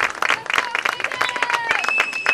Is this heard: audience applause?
yes